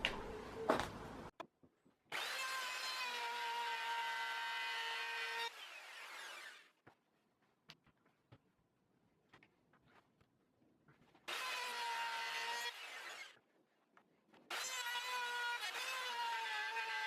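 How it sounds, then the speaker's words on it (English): A router cuts a channel into a wooden charcuterie board with three loud, whining bursts of several seconds each, separated by quiet gaps that hold faint scraping and tapping. "This part of the charcuterie board I'm going to use the router to make thinner"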